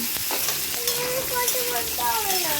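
Potatoes frying in a pan for a potato, eggplant and yardlong bean stir-fry: a steady, close crackling sizzle fills the whole short stretch, with a few faint tonal squeaks above it.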